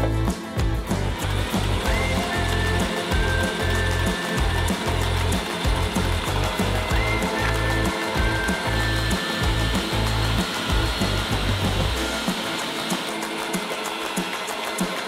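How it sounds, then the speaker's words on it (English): Meat grinder mincing a large batch of onions, its steady motor drone loud and continuous with rhythmic low churning pulses, dropping off near the end as the machine stops. "throw these into the meat grinder as well"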